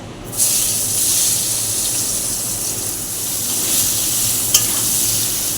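Onions drop into hot oil with bay leaves in a wok and set off a loud, steady sizzle that crackles on without a break, with a brief clink near the end.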